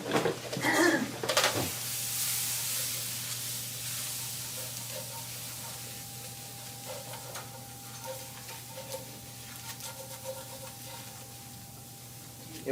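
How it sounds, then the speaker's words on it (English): Flour cooking in a sauce pan as a whisk stirs it, a soft sizzling hiss with faint scraping taps. It stays quiet and continuous after a louder clatter at the start, with a low steady hum underneath. "now we just want to cook off that flour a bit to get that raw flour taste out"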